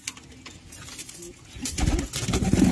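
A male and female pigeon coo close by, soft throaty calls repeating in short bursts that grow louder toward the end.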